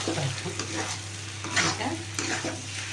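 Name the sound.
potatoes and eggs frying in a pan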